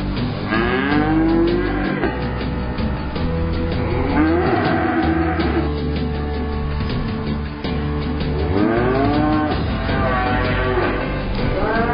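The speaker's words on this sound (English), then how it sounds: "Many farmers have now got cattle housed inside." Cattle housed in a barn moo loudly and repeatedly, several long, drawn-out calls from more than one animal, close by in an enclosed space with constant background noise.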